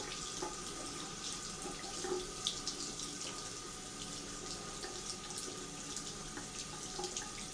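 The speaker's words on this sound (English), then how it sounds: "I could put down the stream so you can hear me" A tap runs in a steady, even stream into a sink, close and constant throughout with no speech.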